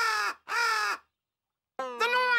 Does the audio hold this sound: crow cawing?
yes